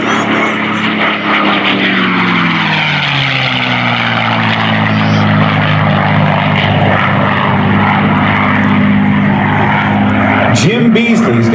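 P-51 Mustang fighter propeller engine flying past at an airshow, a loud, steady droning roar with pitch sliding downward as it passes, continuous throughout.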